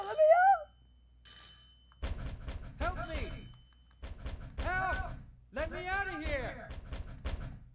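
A telephone ringing in the horror video game Silent Hill 4: The Room, electronic ring bursts at the start, then players talking over game sound.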